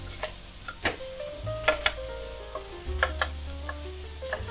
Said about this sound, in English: So we just want to saute this slightly